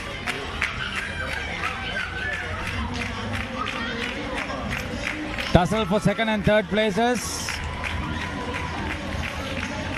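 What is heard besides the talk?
girls cheering at school sports meet relay race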